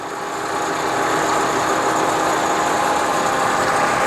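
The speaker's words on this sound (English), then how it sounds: "Now we have our thread screw running." A GMC precision gap bed engine lathe, model GT-26120, runs steadily in threading mode with its thread screw turning, giving a continuous, even mechanical hum and whir at close range with no pauses.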